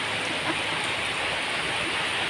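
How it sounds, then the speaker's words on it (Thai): Steady rain falls in Huai Prap, Rayong, a dense, even hiss of drops on surfaces that stays constant throughout, close and moderately loud with no voices. "ชมเดี๋ยวชมบรรยากาศฝนตกเลยค่ะ"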